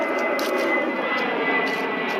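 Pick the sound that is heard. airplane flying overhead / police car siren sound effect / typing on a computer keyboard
airplane flying overhead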